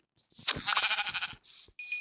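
In a video game, several bleats from a sheep, close and fairly loud, one drawn-out call followed by a shorter one after a brief pause, with a faint electronic tone at the end.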